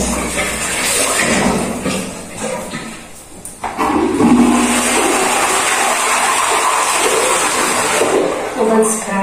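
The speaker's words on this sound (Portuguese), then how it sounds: "Uma descarga, já dei descarga." A toilet flushes with a rushing gurgle of water that swells and keeps pouring, close up, over some background noise.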